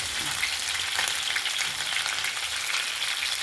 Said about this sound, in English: just continue mixing it until we ensure that our onions are well done